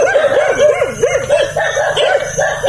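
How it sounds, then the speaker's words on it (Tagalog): Several dogs bark and howl close by, a quick run of rising and falling yelps and bow-wows repeating through the stretch, loud and with no voices over them. "Tumatahol na yung aso"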